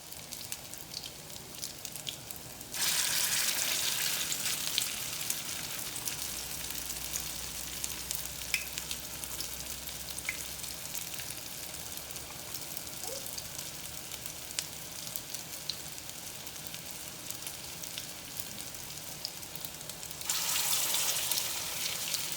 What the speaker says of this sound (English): I'll come back when I get the oil in my fryer and we'll make these